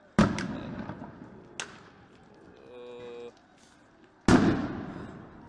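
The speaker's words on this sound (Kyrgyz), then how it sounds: "Желим октор менен аткан айтылып атат." Police firing rubber bullets and stun grenades at a postelection protest crowd in Kyrgyzstan: three sharp, distant bangs spaced apart, the last the loudest, with a brief tonal sound between them over low street ambience.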